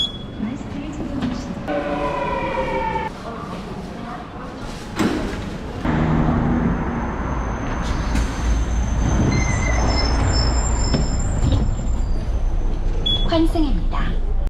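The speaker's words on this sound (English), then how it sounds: "So I'm just heading to the subway now. I think it's line 2." Busan Metro line 2 subway train running loud and continuous, with wheel squeal and rumbling rail noise throughout and passing voices and announcements in the carriage.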